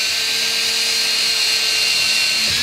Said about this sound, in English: So we finished with the drill.